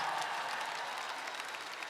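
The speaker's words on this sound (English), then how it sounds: "Let's give him applause" A concert audience at a performance in Kazakhstan applauds a composer, a dense steady wash of clapping heard from a distance, fairly faint.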